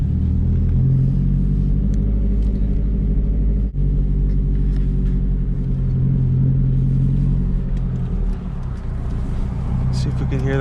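Deep, steady engine rumble from a 2004 Subaru WRX STI driving at night, heard from inside the car, with a brief bump and a voice speaking over it.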